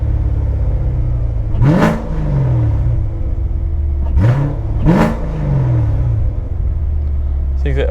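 A 2019 Corvette Stingray 1LT Z51 with its LT1 V8 and aftermarket exhaust, heard through open windows, rumbles steadily at idle and then blips hard three times, each rev rising sharply and falling back, close and loud.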